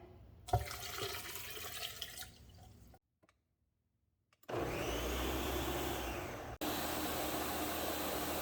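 About 1.5 cups of distilled water pours steadily for a couple of seconds, then a short silence, followed by a loud whirring blender motor.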